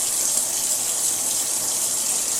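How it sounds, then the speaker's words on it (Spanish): Water pouring steadily from an opened kitchen tap, a loud close gush that runs without a break. "¿Cómo cae el agua?"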